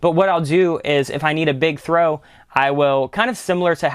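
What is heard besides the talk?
No distinct noise like a dog, phone or traffic.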